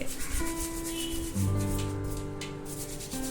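Toothpaste scrubbed into a sink basin gives a steady, close rubbing and scraping sound with a faint tonal hum in the background.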